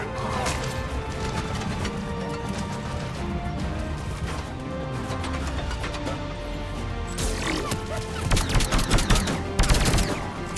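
Gunfire in Mass Effect Legendary Edition, dense continuous bursts of shots and impacts throughout, growing louder and more crackling toward the end.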